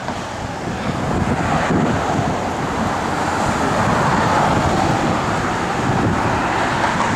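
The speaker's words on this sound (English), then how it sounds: "That wind is just cutting through me." Cold wind roars outdoors beside a classic car, a loud continuous broadband rush with gusty buffeting across the microphone and no talk.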